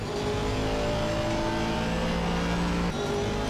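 A BMW race car engine in Assetto Corsa Competizione, racing online, roaring loud and steady with sustained revving harmonics, other cars audible close by, no talk.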